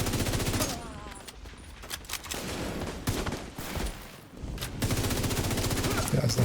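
Enemies shooting at the player in a video game, rapid machine-gun-like bursts of gunfire, loud and close, broken by brief lulls before dense volleys resume.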